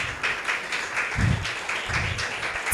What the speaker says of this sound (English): Please, a round of applause for LegalTech Business.